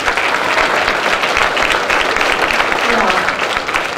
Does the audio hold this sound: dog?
no